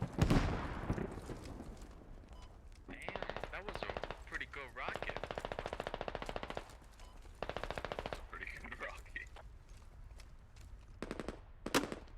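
Video game firefight with sustained machine-gun bursts in rapid rhythmic volleys, several long strings of shots interspersed with single cracks, loud and close, with occasional voices underneath.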